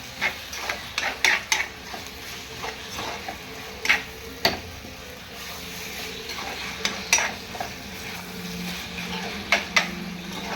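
Chicken curry masala is stirred in a pan at home. A spoon scrapes and taps against the metal in irregular bursts over a low, steady sizzle, close by, with no one talking.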